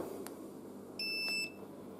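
An electric two-wheeler gives a short electronic beep as it is switched on: a pure, high double-toned chirp lasting about half a second, fairly clear over a quiet indoor background.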